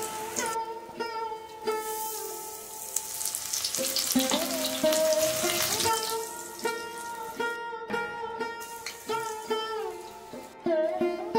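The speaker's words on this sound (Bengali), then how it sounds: "কড়াইয়ের মধ্যে এক এক করে দুটো পকোড়া দিয়ে দেবো" Kulekhara leaf pakoras deep-frying in hot oil in a kadai, a loud steady bubbling sizzle throughout with spoon stirring and faint clinks, no talking.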